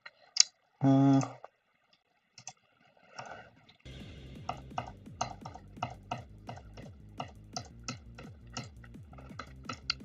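Rapid, light computer clicks tick in an uneven rhythm during a live gaming stream on a laptop, faint and close, running steadily through the second half after a few scattered earlier clicks.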